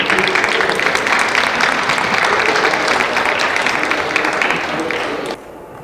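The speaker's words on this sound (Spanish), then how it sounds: "Un aplauso, por favor." An audience at an academic book presentation on Mexican agricultural sciences applauds a speaker being introduced, dense sustained clapping that tapers off and stops abruptly near the end, leaving low room tone.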